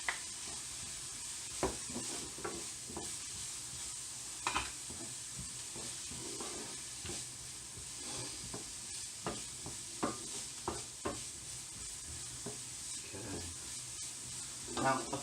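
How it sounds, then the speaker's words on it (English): Garlic and chilli fry quietly in a pan for a couscous risotto, a soft steady sizzle broken by scattered clinks and scrapes of stirring. "So I'm going to add the garlic and the chilli in there now."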